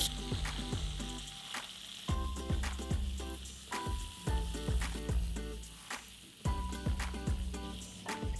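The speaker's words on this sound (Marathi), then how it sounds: "फोडणी रेडी झाली आहे त्यात घालूया आपण कापलेला भोपळा" Cut red pumpkin sizzles loudly in a cumin and chilli tempering, with steady frying crackle broken by repeated sharp spatula clicks against the pan.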